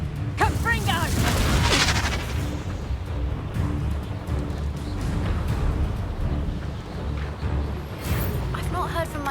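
Booming fire-spell explosions from the Confringo spell in Hogwarts Legacy, a loud burst early on followed by rumbling combat noise, with talking mixed in.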